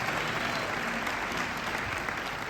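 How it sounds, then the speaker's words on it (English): Dense, steady applause from a large audience at a gala anniversary celebration, loud and continuous throughout with no talk over it. "Clap your hands,"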